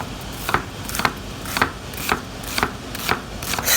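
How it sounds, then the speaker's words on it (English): A knife dices an onion on a cutting board, with about eight crisp chopping strokes falling in a steady, even rhythm close by. "now you turn your onion over and cut this way."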